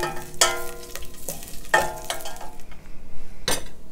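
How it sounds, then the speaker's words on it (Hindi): Cumin seeds fry in a pan for chana chaat, with a steady sizzle broken by loud scraping and clinking strokes of a spoon against the metal, close and fairly loud. "1/2 टेबलस्पून हमने ज़ीरा लिया है, वो भी इसमें शामिल कर देंगे। इसको अच्छी तरह से फ्राई कर लेंगे।"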